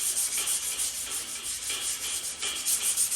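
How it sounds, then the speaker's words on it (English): Hand sanding of a steel Ford XA Falcon car fender with 120 grit sandpaper, a steady rhythmic rasping back and forth, close and fairly quiet, with no voices. "this way we know when we've sanded enough with the 120."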